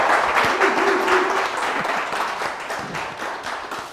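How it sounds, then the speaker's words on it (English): An audience applauds at a quiz show, dense continuous clapping that stays loud throughout with no talk over it. "A round of applause."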